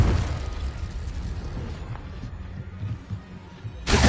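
A Confringo explosion spell in Hogwarts Legacy goes off as a muffled burst that fades into a rumbling tail, followed by a sharp bright burst at the very end.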